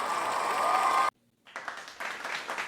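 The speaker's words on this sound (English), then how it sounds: "I'm going to give myself a round of applause just because I can." A short burst of applause, a light clatter of clapping that stops abruptly, then after a brief gap resumes more thinly and scattered, moderately quiet.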